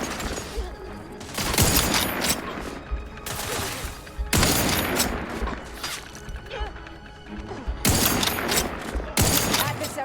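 Gunfire and crashing impacts in the video game The Outer Worlds 2, loud bursts of shots arriving in repeated clusters with smashing hits between them, a voice occasionally heard underneath.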